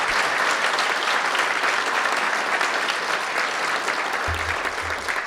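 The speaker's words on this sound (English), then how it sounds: "give a round of applause for that" Sustained applause from a seated audience at a Martin Luther King Jr. celebration banquet at MTU, steady dense clapping filling the room at even loudness throughout, with a low rumble entering near the end.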